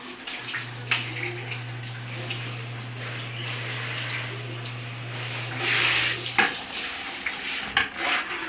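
Steady stream of water running from a faucet and handheld telephone shower, a constant rushing hiss with a low steady hum underneath, punctuated by a few splashes and clatters near the end.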